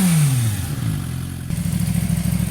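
A stock 2013 Suzuki Gixxer 600 sport bike with stock exhaust settles from a falling rev into a close, steady, pulsing idle.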